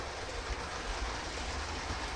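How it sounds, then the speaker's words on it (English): A model train runs around its track loop, a steady low rumble with soft clicking wheels throughout, fairly quiet and even, with no voices. "hopefully next week the second loop will be going and the train will be going around the opposite way"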